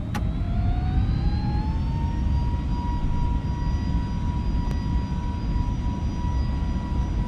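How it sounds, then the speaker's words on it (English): Jet engines of an FSLabs Airbus A321neo in a flight simulator spool up to takeoff thrust at Gatwick. A loud, steady roar carries a whine that climbs and then holds, and there is no talk. "Gonna make sure that the engines are spooling up in sync, or at least almost in sync"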